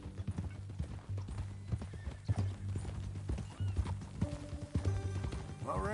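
Steady clip-clop of horse hooves at a walking pace in Red Dead Redemption 2, with a horse whinnying and a few thuds and jingles mixed in.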